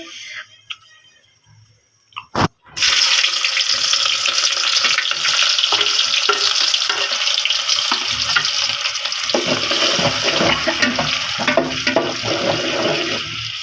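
Tomato-yogurt paste hits hot oil already used for frying beef koftas, bursting into a loud, dense, steady sizzle after a quiet start and continuing unbroken to the end.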